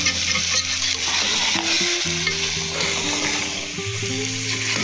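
Grated carrots roasting in ghee for gajar ka halwa, a steady sizzle broken by repeated scraping strokes of a spoon against the pan, close and fairly loud with no voices.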